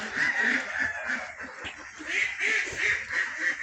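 Sonali roosters and other fowl on a mixed farm give off a continuous chorus of clucking and calling, close and fairly loud, with overlapping bird voices throughout.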